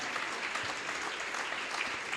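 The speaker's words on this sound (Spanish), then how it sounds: "Démosle un aplauso, Señor. Es digno de que le aplaudamos." A church congregation applauds, a steady wash of clapping hands filling a short stretch without pause.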